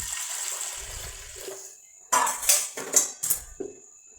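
Two glasses of warm water pour into a pressure cooker over dal with tomato and turmeric, a splashing gush in several surges following a softer stretch, close and moderately loud.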